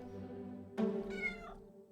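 A cat meows in the video game Centum: one clear, fairly close meow that rises and fades over about a second, set against a steady low ambient game drone.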